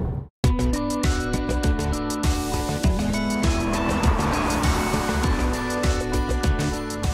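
A Mini car engine revs and shifts gears as it drives steadily along a country road in the Cotswolds, with a brief silence at the start and continuous road noise throughout.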